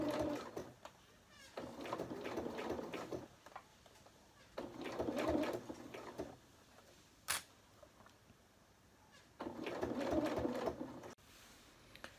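Sewing machine top-stitching binding onto triangle bunting, running in three long bursts of steady mechanical whirring separated by pauses, with a brief sharp click between the second and third runs.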